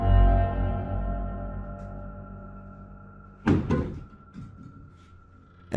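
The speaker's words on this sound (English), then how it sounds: "the wardrobe door opens and closes repeatedly" A wooden wardrobe door bumps shut with a close thunk and a short rattle, after a fading hum.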